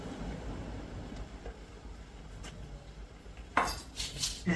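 A knife slices through stacked yellow tofu on a cutting board, with a few quiet taps early on, then a burst of sharper, louder knocks and scrapes near the end.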